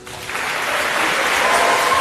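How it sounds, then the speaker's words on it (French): Applause from an audience at a speech on agriculture, a dense wash of clapping that builds slightly and holds steady throughout. "Béatrice de l'équipe CESAG, sous vos applaudissements."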